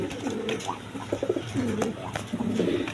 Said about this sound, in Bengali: এখানে 1 পেয়ার আপনার নট পাইলে পটার, গড়গড়ি পটার, আর এই মাদিটা হইল আপনার বিউটি কবুতর।